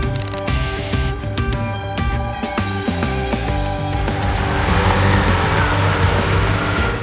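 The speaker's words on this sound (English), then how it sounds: "we decided to have Jonny back up the Porsche and do a few drifts around the corner" A Porsche drifting around a mountain road corner, the engine revving up and down through gear changes before a long rising roar with tyre and road noise, loud and fairly close.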